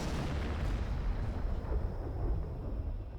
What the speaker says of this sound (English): Stalin institutes a salvo of cannons to celebrate each victory.